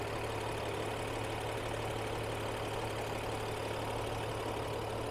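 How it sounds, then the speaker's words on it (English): A 2023 Range Rover Sport SE Dynamic idling, a steady, smooth, even engine hum with no revving, heard up close and alone without talk. "I'll let you listen to the engine idle."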